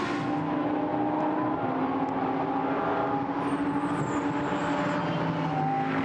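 Lamborghini Super Trofeo race cars at the Nürburgring come through a chicane nose to tail in a 2019 European race, a steady loud engine roar with a high whine rising near the end, no voices.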